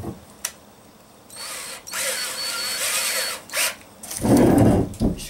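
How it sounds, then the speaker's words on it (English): A power drill whirs in several bursts, spinning up and biting into a solar panel, with a louder grinding stretch near the end. "we need to drill some holes into our solar panel"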